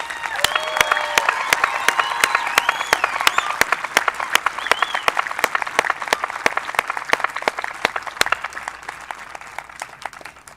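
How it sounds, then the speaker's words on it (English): An audience at a 2020 commencement ceremony applauds the graduating class with dense, sustained clapping that fills the space for several seconds, a few scattered cheers rising early and no voices speaking over it. "Please join me in a round of applause for the class of 2020."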